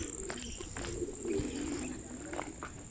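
Fancy pigeons coo softly on a farm, low murmuring calls under a steady high insect-like drone, with faint background talk and rustling.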